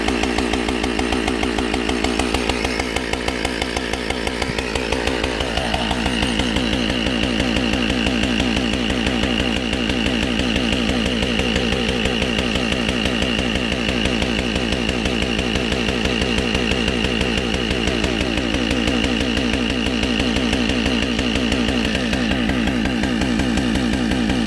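A Husqvarna 572XP chainsaw held at wide open throttle during a rip cut, a loud steady engine whine that holds throughout with slight pitch dips as the chain bites into the wood.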